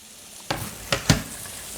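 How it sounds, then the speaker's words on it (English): Minced garlic sizzling in melted butter in a pan, a soft steady hiss with three brief louder crackles close by, no voices. "So I'm going to add the 1 clove of garlic, and we're just going to cook this for about 30 seconds."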